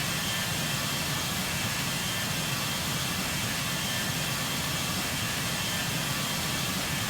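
Boeing 737-800 jet engines run at full throttle in a flight video game, giving a loud, continuous broadband roar that stays steady throughout with no talk.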